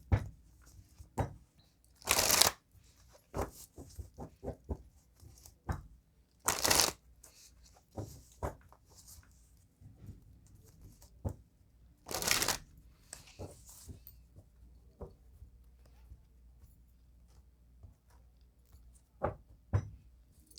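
Tarot cards being shuffled close up in a quiet room, several sharp riffles and bursts of card flapping separated by softer taps and handling sounds.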